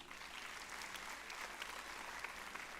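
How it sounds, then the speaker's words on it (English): Steady, dense audience applause at a pharmacology conference in Nagpur, continuous hand clapping from a large crowd, fairly distant and even throughout. "please give a big round of applause to the spirit of pharmacology and therapeutics"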